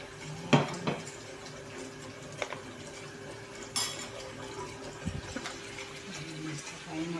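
Plates and dishes clink and clatter while sardine soup is served, with a few sharp knocks scattered across a quiet room tone.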